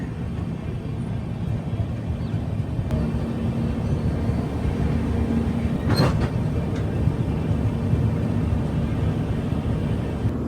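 A Humsafar Express passenger train rumbles steadily with a constant low roar and faint rail clatter, heard from on board near a station, with a brief sharp squeal midway and no voices.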